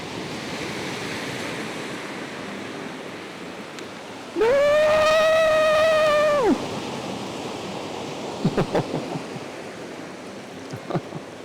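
Ocean waves wash steadily onto the shore at sunrise at a rocky seascape, forming a constant broad hiss of surf, broken midway by a brief high electronic whine and a few sharp clicks.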